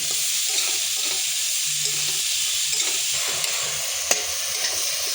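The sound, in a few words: sautéing spice paste in oil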